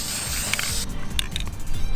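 An ultra flat spray paint can hisses in a long spray burst onto a ghillie suit, then short rattling clicks and a few brief spurts follow, close by.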